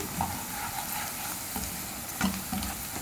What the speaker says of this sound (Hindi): लाल मिर्च है, वो भी मैंने ऐड कर दी है। बस थोड़ा सा फ्राई करेंगे।